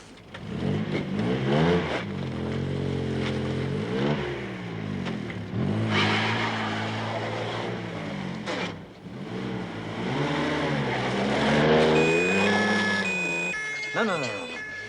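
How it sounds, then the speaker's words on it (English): A car engine revs repeatedly as the car is turned around, rising and falling through several loud accelerations with a steady idle between, under people talking. "Get the car turned around."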